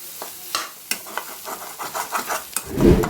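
Egg podimas is fried dry in a pan, with repeated scraping stir strokes and a light sizzle in an uneven rhythm up close, rising to a louder rasp at the end; no talk.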